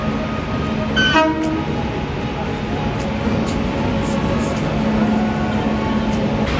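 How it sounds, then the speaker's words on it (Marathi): A crowded passenger train pulls into a station, its steady loud rumble filling the scene while a brief horn-like tone sounds early on; voices of people on the platform mix faintly underneath. "तर तुम्हाला दाखवतो तो ट्रेन आली."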